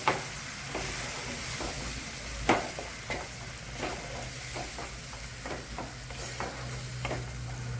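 Ground masala paste for egg curry sautéing in hot oil in a pan, a steady close sizzle broken by scattered scrapes and knocks of a stirring spoon, no talking.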